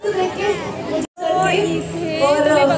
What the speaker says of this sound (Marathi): तुम्ही बघू शकता एवढी गर्दी आहे ना इकडे